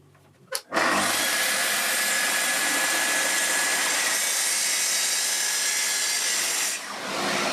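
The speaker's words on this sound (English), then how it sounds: "I'm cutting across them so that the kerf of the blade cuts both ends" A power saw blade cuts across two butted wooden boards in a home workshop, one loud continuous whine of about six seconds after a brief start-up.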